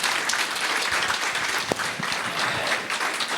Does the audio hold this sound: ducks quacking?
no